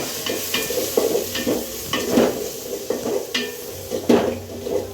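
Mutton frying with garlic sizzles in a pan while a utensil stirs and scrapes against the metal in a rough rhythm of repeated strokes, close and steady.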